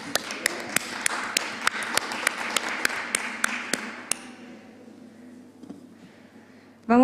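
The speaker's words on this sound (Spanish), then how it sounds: "Te damos un fuerte aplauso." A small group at a Chilean constitutional convention environment committee session gives a round of applause, with sparse, distinct individual claps for about four seconds that then stop, leaving quiet room noise.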